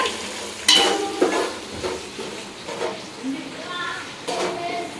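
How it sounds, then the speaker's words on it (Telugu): Puffed rice uggani is mixed in a pan, with several distinct spatula scrapes and clinks against the metal over a light sizzle. Brief voices are audible in the background. "బాగా మిక్స్ చేయి కలపాలన్నమాట"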